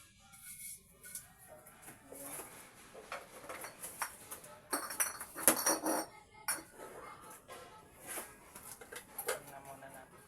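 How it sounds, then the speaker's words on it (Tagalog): A kawali frying pan is pulled out and handled in a home kitchen for breakfast cooking, giving scattered metallic clinks and clatters of cookware, fairly faint and close, with a voice talking intermittently. "Kuha tayo ng kawali."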